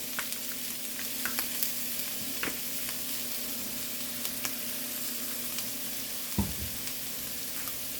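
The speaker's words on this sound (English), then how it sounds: "onions and celery in there so they can saute" Onions and celery sauté in a pan with a continuous close sizzle and occasional small pops. A low steady hum runs underneath, and one soft thump comes near the end.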